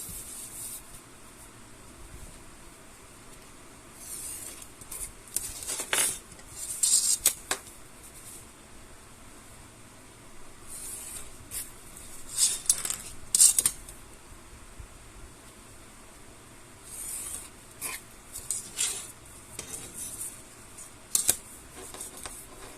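Paper being cut for a handmade octagonal album, a few short scraping snips and rustles in bursts against a low steady background hiss, close by with no talking.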